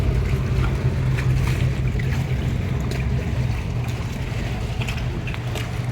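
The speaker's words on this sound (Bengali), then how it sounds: "আমাদের বোট এসে গেছে, এটা return boat from 1000 islands two এরা ক্যাসেলে যাচ্ছে" Return boat arriving at an island dock in the Thousand Islands near Boldt Castle, a steady low engine rumble with water and wind noise throughout, fairly close and continuous, no talking.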